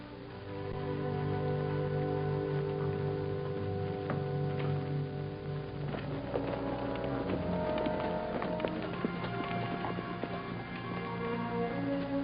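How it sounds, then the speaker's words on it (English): Horses' hooves clip-clop as riders set off on a trail in a 1950 Western film, a steady rhythmic clatter running under a continuous orchestral music score. "The horses are right outside."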